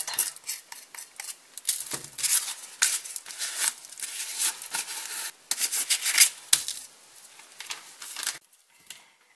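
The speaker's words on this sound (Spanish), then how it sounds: "y luego lijamos y ya" Close, gritty scraping of sandpaper rubbed back and forth over a plaster candle holder in uneven strokes, dying away at the end.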